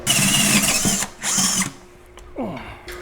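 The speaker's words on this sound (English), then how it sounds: "I'm gonna drill a hole through this wood stud." A power drill whirs loudly in two close bursts as it bores through a wooden stud, then stops, leaving a brief whine and a quiet pause.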